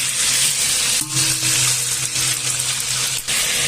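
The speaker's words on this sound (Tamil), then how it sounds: "இப்போ எண்ணெய் காஞ்சிச்சு இதில் பட்டை லவணம் சோம்பு இது எல்லாமே நாம் இதில் போட்டுற வேண்டியது தான்" Cinnamon, cloves and fennel seeds sizzle in hot oil for a large batch of temple food, a loud, dense, continuous hiss up close with brief dips where the spices settle.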